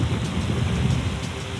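Heavy rain pouring steadily, a dense hiss with a low roar underneath, constant throughout and heard alone.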